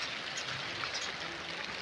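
Steady rain hisses throughout, a dense wash of falling drops with no talking.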